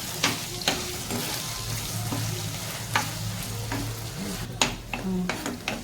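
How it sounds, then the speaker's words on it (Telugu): Masala for chicken gongura fries in oil in a pan, a steady close sizzle with a few sharp stirring scrapes and clanks over about six seconds, no voices. "మసాలా బాగా నూనె పెట్టి బ్రౌన్ కలర్లో వచ్చే వరకు వేయించుకోవాలి"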